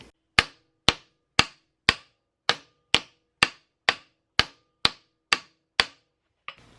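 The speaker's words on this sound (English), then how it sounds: "I use the hammer here to tap it on." A hammer taps a brake drum onto the front hub of a Suzuki King Quad 300 ATV, about a dozen sharp, evenly spaced metallic knocks, close and loud, with no talking.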